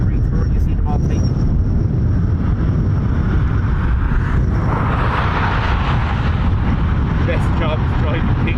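Antonov AN-26B departing Dublin Airport, a steady loud engine roar with broadband rumble and microphone wind, continuous throughout, with a voice talking underneath.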